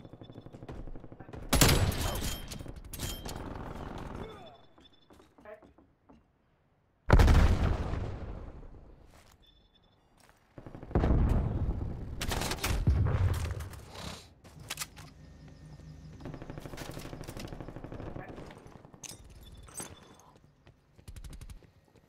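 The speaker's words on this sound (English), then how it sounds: "Sentry turret active." A sentry turret fires in Call of Duty: Black Ops Cold War, with loud bursts of automatic gunfire in several separate volleys, some sharp and close, others trailing off, with gaps of quiet between them.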